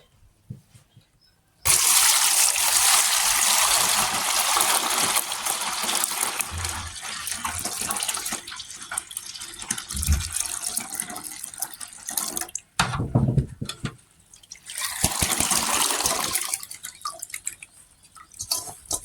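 Running water from a tap rinses ingredients for Cameroonian koki, a steady loud rush with splashing and clatter that varies in strength throughout, with no speech.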